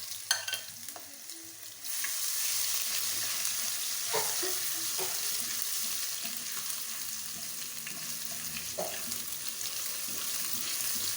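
Garlic paste frying in three tablespoons of hot oil, a steady dense sizzle that jumps up after about two seconds and holds loud and close, with occasional stirring scrapes on top.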